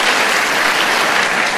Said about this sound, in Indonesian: Tepuk tangan buat jemaat yang luar biasa.